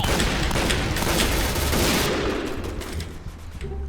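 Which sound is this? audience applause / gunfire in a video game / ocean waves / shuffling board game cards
gunfire in a video game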